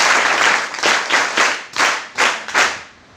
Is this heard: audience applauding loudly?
yes